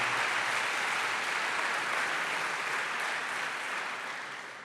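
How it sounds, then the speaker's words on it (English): An audience at a school district event applauds Matthew McConaughey, a full, even wash of clapping that holds steady and then begins to thin out near the end. "round of applause for Matthew McConaughey"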